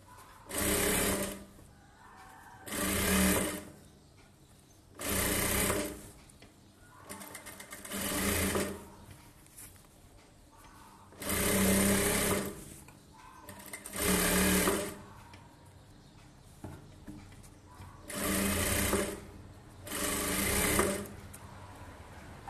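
A sewing machine stitches a boat-neck princess blouse in eight short bursts of rapid whirring, each a couple of seconds long, with quiet pauses between them and no speech.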